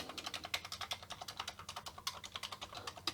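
Keys on a Commodore VIC-20 computer keyboard are typed in a quick, even run of close, crisp clicks and clacks, with no voices.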